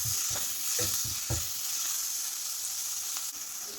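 Chopped tomato with salt sautéing in a pan, a constant close hiss and sizzle with several soft rhythmic scrapes of stirring early on.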